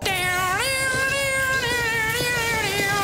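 A voice actor vocally imitates a wailing electric guitar solo in a game trailer, a loud, continuous, bending, whining tone that sounds almost like a yowling cat, over a rumbling backing.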